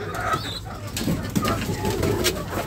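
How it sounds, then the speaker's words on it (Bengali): Pigeons coo close by in a poultry coop, with a few soft calls scattered among faint rustling and background noise. "কবুতর মনে হয়"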